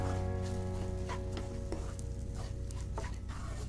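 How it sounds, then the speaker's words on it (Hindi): Semolina roasting in a pan with vegetables gives off a steady soft sizzle and light scraping stir, continuous and close under a low constant hum. "यहाँ पर हमने 1 कप सूजी ले ली है, वो इसके अंदर ऐड कर देंगे, और इसको भी थोड़ा सा भून लेंगे।"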